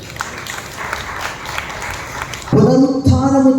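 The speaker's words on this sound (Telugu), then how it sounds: "బిగ్గరగా చప్పట్లు కొట్టండి" A church congregation claps loudly together in a sudden burst of dense applause that takes over from quieter room noise and holds steady.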